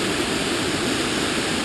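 Rushing creek torrent at Hazel Creek roars as a steady, dense, close wash of white water, loud and unbroken with no voices.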